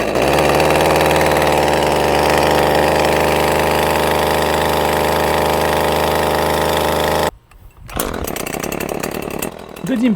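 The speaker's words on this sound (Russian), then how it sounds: "Дадим пиле немного поработать в холостую, так как она новая." A new petrol 30 cm Echo chainsaw idles steadily and loudly for about seven seconds, its buzzing engine tone constant, then cuts abruptly to quieter, rougher mechanical noise.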